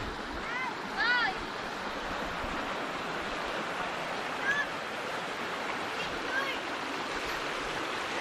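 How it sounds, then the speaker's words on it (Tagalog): A river fed by a waterfall flows and rushes steadily, a broad continuous water noise close by, with a few brief bird chirps rising above it. "Ito yung ilog na galing sa falls."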